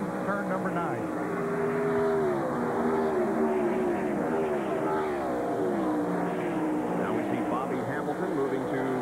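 Race cars in the 1996 Bud at the Glen roar through turn 10, their engines a continuous, slightly shifting drone behind ongoing race commentary.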